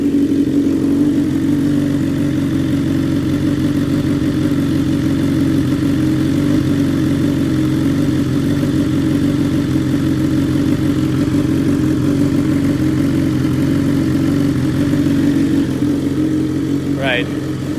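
BMW S1000XR motorcycle engine idling high after a cold start, a steady continuous low drone throughout at close range, with a person talking over it.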